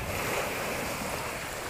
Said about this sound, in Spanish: escuchando y respirando el mar